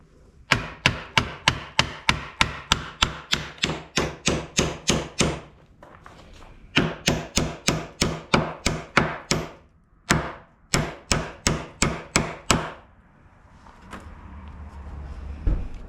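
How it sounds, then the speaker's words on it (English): A hammer drives a nail into a wooden marble-top dresser in quick, steady strikes, loud and close, in several long runs of rapid blows separated by brief pauses, with no talking. "I'm just going to put a nail right there"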